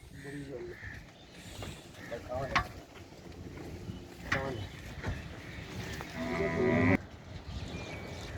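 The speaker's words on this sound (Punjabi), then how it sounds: "ਇਹ ਵੱਛੀ ਹੈ ਨਾ ਜੀ, ਇਹ ਗਾਂ ਦੇ ਨਾਲ ਆਈ ਸੀ।" A cow and calf moo several times at close range, with lowing calls spaced apart amid rustling and people talking in the background.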